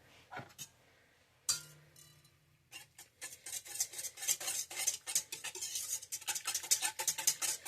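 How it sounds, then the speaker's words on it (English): Melted butter mixture with salt whisked in a bowl for homemade pretzel dough: after a couple of brief clinks, a steady run of quick, close metallic whisk strokes scraping around the bowl, growing busier toward the end. "I'm going to give that a quick whisk."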